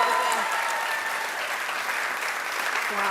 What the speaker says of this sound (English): Give them all a round of applause for all award winners